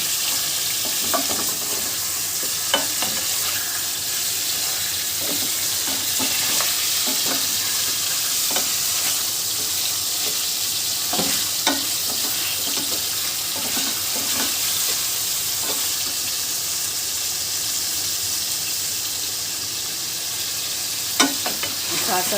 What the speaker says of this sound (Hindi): अब हम इसको अच्छी तरीके से भूनते हैं